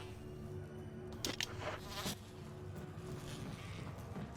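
Bees buzz in Resident Evil HD with a faint, steady drone, one brief louder flutter passing close, and low ambient hum underneath; no talking.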